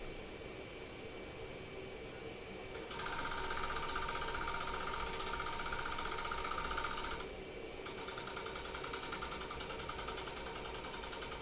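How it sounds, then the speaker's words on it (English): A serger stitches a bathing suit, a fast steady mechanical chatter that grows louder for a few seconds, then eases back to a quieter run. "we're going to end up double serging this"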